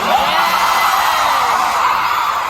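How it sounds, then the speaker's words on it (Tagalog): A concert crowd screams and cheers at a finale show, a loud and continuous wash of high shrieks and yells that fills the whole stretch. "Ang lakas ng mga sigaw talaga."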